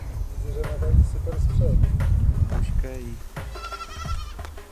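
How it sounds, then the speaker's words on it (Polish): A herd of black goats bleats repeatedly in a river valley near the Todra Gorge, several close, wavering calls standing out over steady background noise and chatter. "Ile tutaj jest kózek czarnych, całe stado."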